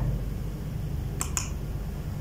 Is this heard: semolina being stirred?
no